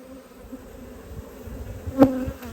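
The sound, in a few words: honey bees buzzing around a frame pulled from a hive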